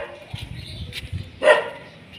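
A dog gives a couple of short, faint barks and yips over quiet background noise, with one sharper, louder bark near the end.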